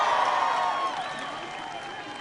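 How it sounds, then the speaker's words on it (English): Crowd applause and cheering at a 2016 Obama campaign rally for Hillary Clinton in Philadelphia, a dense roar of clapping and whoops from a large audience that slowly fades over a couple of seconds. "Give Josh a big round of applause."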